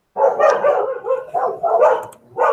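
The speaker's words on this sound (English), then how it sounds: "those dogs!" Several dogs bark loudly and close by in repeated bursts of yips and bow-wows, with short gaps between the volleys.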